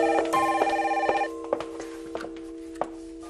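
An indoor telephone in a house rings with a bright electronic bell, sounding for about a second before it is cut off, followed by a few soft clicks and knocks.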